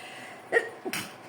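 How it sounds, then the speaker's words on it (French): A short sneeze, a quick sharp intake then an abrupt burst of breath, close and fairly soft. "J'ai envie d'éternuer."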